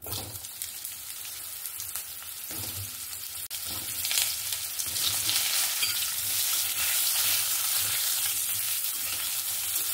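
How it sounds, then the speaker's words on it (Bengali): Potato and eggplant pieces frying in oil left from fried hilsa, a dense crackling sizzle that grows louder and more constant partway through, close up with occasional stirring. "ওই তেলের মধ্যেই আমি আলু বেগুনটা হালকা করে একটু ভেজে নেব।"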